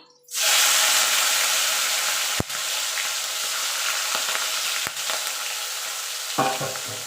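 Shrimp hit hot oil for light frying in a spinach-prawn dish, bursting into a loud, sudden sizzle that settles into a steady spitting hiss, broken by a few sharp utensil clicks.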